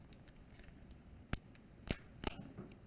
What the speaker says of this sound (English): So I'm gonna take this tape off here.